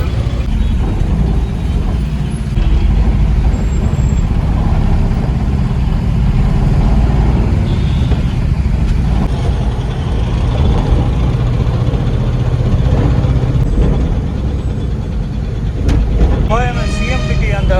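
A truck climbing the Padi flyover gives a loud, steady engine drone amid dense road traffic, with a few high beeps toward the end.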